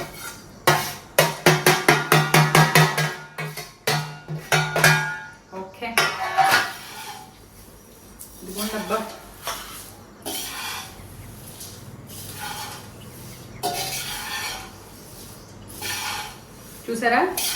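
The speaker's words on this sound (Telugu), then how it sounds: "కొంచెం ఇందులో అటుకులు వేసి తిప్పితే నూనె లాంటివి ఏమన్నా వచ్చేస్తాయి" Flattened rice (poha) is stirred in a pan, producing repeated clattering and scraping bursts of utensil against metal, loud at first and then sparser, with quieter gaps between.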